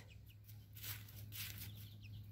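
Chickens and a rooster cluck on a farm, soft scattered calls over a steady low hum, fairly faint and close by, with no talking.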